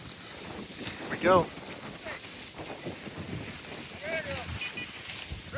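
Steady wind rumbles and buffets a microphone outdoors in a field on a pheasant hunt, with a brief voice speaking near the start and faint gusty noise throughout.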